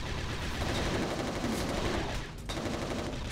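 Rapid automatic gunfire from the Resistance Retribution video game rattles loud and close in continuous bursts, broken by a brief pause before it resumes, with no talk.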